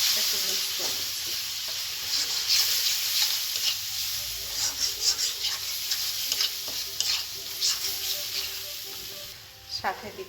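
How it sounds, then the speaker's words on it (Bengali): Garlic and ground turmeric, chili, coriander and roasted cumin frying in a pan with a splash of water, a steady close sizzle with repeated scraping stirs throughout. "রসুনটা হালকা একটু ব্রাউন করে ভেজে নিই, একটু পানি দিয়ে দিলাম।"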